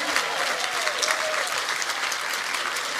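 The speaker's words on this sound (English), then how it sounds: "And if we clap really loudly," Audience applause at a yoga festival class, a dense steady clatter of many hands clapping loudly for three seconds with faint voices mixed in.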